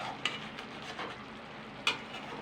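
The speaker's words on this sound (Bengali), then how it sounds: "এবার একটু নেড়ে চেড়ে দেবো হালকা" Mixed vegetables stirred lightly in a pan without added water, a low sizzle under a few soft spatula scrapes and two sharper clinks against the metal, close and quiet.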